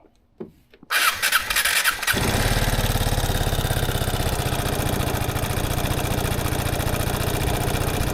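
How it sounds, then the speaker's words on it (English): A Piaggio Fly 150 3V ie scooter engine catches on the first press after a brief starter whir, then settles into a steady, close, loud idle with no talk over it. "You can see the scooter starts on the first press, so there's definitely no issue with starting up."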